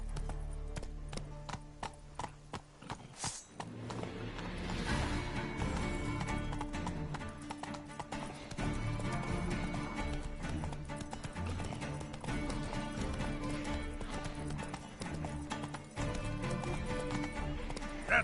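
Horse galloping in The Witcher 3 video game, a steady run of clip-clop hoofbeats throughout against game music and ambience, with a brief whinny-like burst early on.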